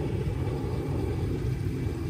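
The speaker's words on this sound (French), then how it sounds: "il y a un tracteur à l'arrière, un avion au-dessus" A steady low engine rumble fills the background, a tractor working behind mixed with an airplane droning overhead.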